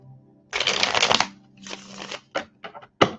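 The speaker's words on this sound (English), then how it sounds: "We're gonna continue to shuffle." Close, crisp riffling of a tarot deck being shuffled, with one long burst, a softer second pass, then several short taps and flicks as the cards settle, no talking.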